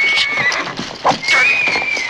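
A horse whinnies in a dramatic film scene after throwing its rider, a loud, strained neigh ringing over busy background noise, with a brief low snort in the middle.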